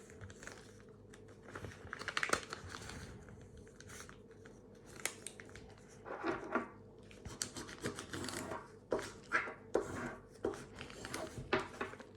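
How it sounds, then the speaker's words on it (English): Sheets of A4 paper being folded and creased into an origami fighter jet, soft crinkles, scrapes and sharp creasing snaps at close range, quiet at first and growing busier and more rhythmic toward the end. "now you can inside reverse fold the layer"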